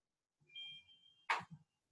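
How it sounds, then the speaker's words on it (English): A smartphone set off remotely by a Garmin watch's find-phone alert gives a faint, steady electronic tone lasting under a second, then a short louder burst and a soft blip. "It will cause your phone to go off."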